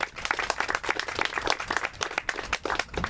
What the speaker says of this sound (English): let's give them a round of applause for what they do.